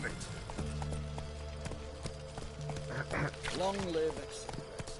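The horse Roach trots in The Witcher 3, a steady clip-clop of hooves close by, with a voice speaking over it and a brief whinny-like sound near the end.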